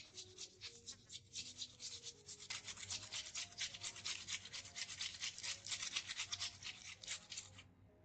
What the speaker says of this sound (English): After I finish rubbing the potatoes